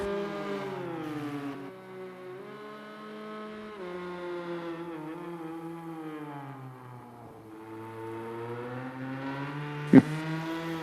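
A Porsche GTE race car in Project Cars 2 laps Oulton Park, its engine note sweeping up and down through gear changes at moderate volume, with a sharp click near the end.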